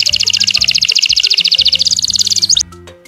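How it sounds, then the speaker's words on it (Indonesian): A canary sings a loud, fast, continuous trill close up over a simple repeating musical backing, and the song cuts off abruptly after a few seconds. "K untuk burung kenari, bahasa Inggrisnya canaris."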